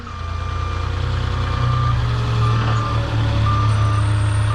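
A delivery truck backing up at a construction site sounds its reversing beeper in a regular chain of loud, evenly spaced beeps. Underneath runs a steady engine rumble that grows heavier partway through, with no talk.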